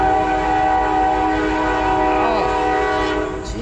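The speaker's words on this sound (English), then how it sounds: "there goes a train. God damn, why has it got to be so loud?" A freight train passes near a creek, its loud sustained horn blaring steadily over a continuous rumble of rail cars, with faint pitch-bending tones near the end.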